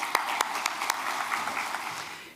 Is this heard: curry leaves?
no